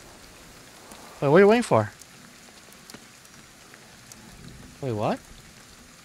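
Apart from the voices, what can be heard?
rain in video game GhostWire: Tokyo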